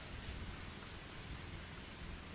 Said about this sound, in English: I'm sorry about the wind in the background